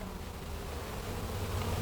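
Honey bees buzz steadily around the hives of a beekeeper moving a frame of eggs between hives, a continuous close insect drone with no voices.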